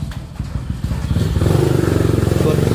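A motorcycle engine grows louder and rumbles past close by, its revving drone building over the second half after brief clattering and voices at the start.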